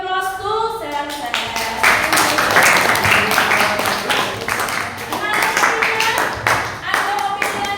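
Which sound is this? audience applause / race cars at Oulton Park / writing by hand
audience applause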